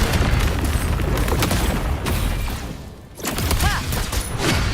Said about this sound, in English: Another mortar thrown at us.